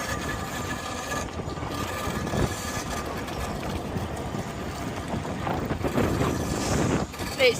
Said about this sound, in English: It's still very, very windy here on the seafront.